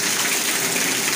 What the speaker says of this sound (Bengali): এই যে এখনও বৃষ্টি এসে গেছে সন্ধেবেলা 7:30টার সময়